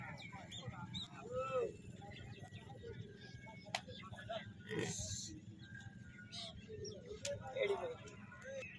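Soft pigeon coos and low grunting calls come in short bursts, with people talking nearby over a murmuring background.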